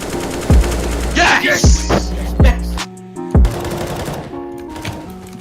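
Sharp, loud gunshots crack out one after another in a competitive shooting video game, several distinct bangs with ringing tails, including a headshot, while a player shouts excitedly and game effects sound between shots.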